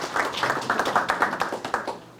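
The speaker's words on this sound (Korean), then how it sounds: "조합장님한테 박수 한번 쳐주시고" At a soybean-farming training session, clapping for the cooperative head comes as a string of distinct, evenly spaced claps from a small group that taper off at the end.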